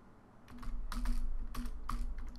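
Code being typed on a computer keyboard while building an Android Studio layout, a steady run of close, clattering keystrokes with bursts and brief pauses, no voices.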